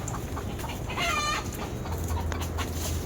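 Chickens at roost, soft continuous clucking and murmuring from several birds close by, with a brief higher call partway through and a low steady hum beneath.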